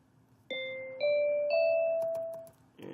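Sonic Pi's Pretty Bells synth plays three rising bell-like notes about half a second apart, each clear tone ringing and sustaining before a brief softer sound at the end.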